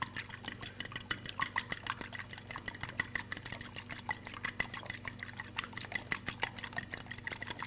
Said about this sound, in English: I'm going to go ahead and beat my eggs.